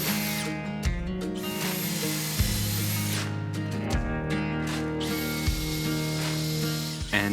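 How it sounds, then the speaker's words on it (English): A power drill whines in repeated bursts, spinning up and biting into timber several times while drilling holes for mounting brackets on a timber-framed duck run, with brief pauses between, close and fairly loud. "I really should start drilling for those mounting brackets before I lose the marks."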